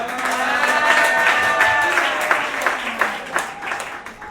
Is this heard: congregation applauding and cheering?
yes